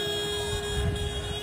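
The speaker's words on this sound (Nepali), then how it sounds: "अटोमेटिक हर्न बजिरहेको छ यसको" Horn of a burning car sounding on its own during a violent street protest in Nepal, a steady sustained tone held throughout amid loud crowd and street noise.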